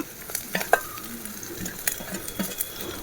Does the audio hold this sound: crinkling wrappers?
no